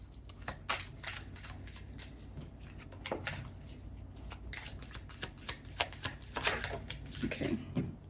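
Tarot cards are shuffled and drawn by hand, giving bursts of crisp riffling and flicking with short pauses between, close and fairly quiet.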